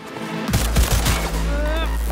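Gunfire in Cyberpunk 2077: a cluster of sharp, loud shots near the half-second mark followed by a rumbling, sustained low tail and some whining tones, with no speech over it.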